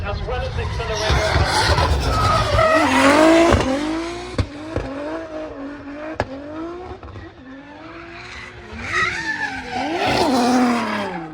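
JZX race car drifting at Castle Combe with left-foot braking, engine revving and rising, falling tire squeals swelling over several seconds, loud and close, with a commentator talking throughout.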